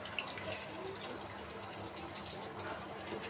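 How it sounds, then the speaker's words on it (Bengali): A little water is poured into a pot of chicken bhuna khichuri, making a soft, continuous trickle that stays faint and close, with no speech over it. "এখন এখানে আমি সামান্য অল্প একটু পানি দিয়ে দেবো"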